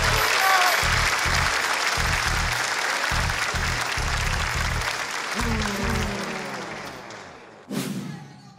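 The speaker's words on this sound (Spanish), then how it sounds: "Un fuerte aplauso para ellos," Audience applause for comedians on a Spanish-language comedy show, a dense sustained wash of clapping from a crowd, loud and steady, with rhythmic low thumps beneath and a sharp burst near the end.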